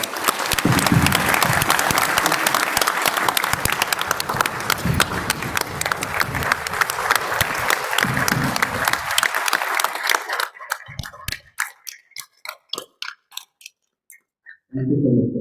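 An audience at an alumni meet breaks into loud, sustained applause that fills the room, then thins out into scattered individual claps before falling silent, followed by a brief voice at the very end.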